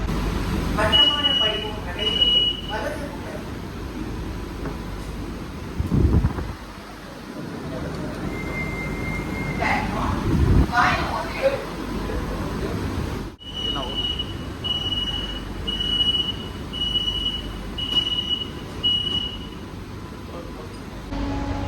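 A brand-new Chennai AC local train pulling in and stopping at Chennai Fort station, with rumbling wheels, rail clatter and repeated electronic chimes from the carriage, heard from on board over a few seconds.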